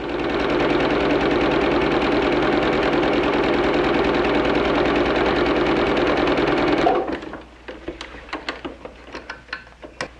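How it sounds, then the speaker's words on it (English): Sewing machine stitching a quarter-inch seam in fabric: a loud, fast, steady mechanical chatter for about seven seconds, then it stops, leaving a series of light clicks and taps as the fabric is handled. "Let's take that to the sewing machine"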